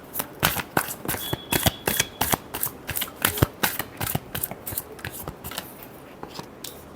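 Tarot cards being shuffled by hand, a rapid run of crisp riffling flicks and snaps in quick irregular bursts, close and clear with no talking.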